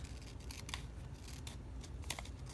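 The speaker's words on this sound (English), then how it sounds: "I don't usually use these scissors for paper" Scissors snip through paper along the edge of a hidden pocket page, a run of several close, crisp cuts spaced unevenly, with no talking.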